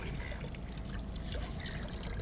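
Water trickles steadily out of a washing machine hose during a front-loader water-reuse setup, a close, continuous dribble and splash with no talk over it.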